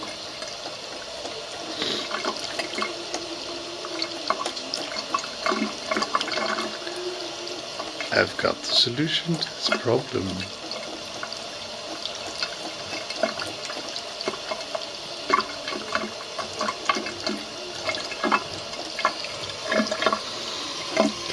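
Running tap water from a faucet splashes steadily while a cat drinks from the stream, with someone talking over it throughout.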